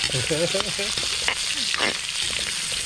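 Carrots and potatoes fry in hot oil with a loud, steady sizzle and occasional stirring scrapes. The sound is close, and a brief voice is heard at the start.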